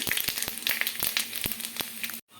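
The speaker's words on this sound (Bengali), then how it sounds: "তেলটা গরম হয়ে গেছে, দিয়ে দেবো পাঁচফোড়ন। পাঁচফোড়ন দিয়ে দিলাম।" Panch phoron spices sizzling and popping in hot oil, a brisk crackle of sharp spits close up, cutting off abruptly near the end.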